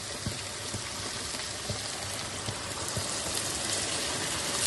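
Thin beef gravy poured into browned mince in a hot pan, giving a steady, dense sizzle and bubbling hiss with a few soft clinks, close and continuous with no talking.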